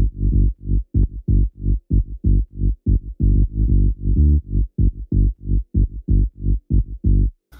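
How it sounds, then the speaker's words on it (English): Deep bass synth made from a Serum saw wave pitched two octaves down plays a rhythmic pattern of short, punchy low notes with brief gaps, loud and alone. "So underneath that main lead sound is a deep bass sound."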